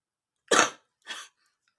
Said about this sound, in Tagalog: Sorry, may ubo kasi ako.